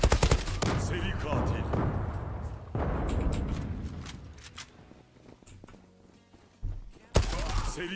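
Gunfire from the online shooter Zula rattles in dense bursts, loud at first, then thinning into scattered shots before a sharp new volley hits near the end.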